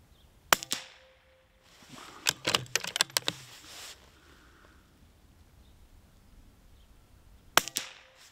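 A Bergara BMR .22LR rifle gives two short, sharp cracks several seconds apart, with a quick cluster of lighter clicks and snaps between them, all in a quiet setting.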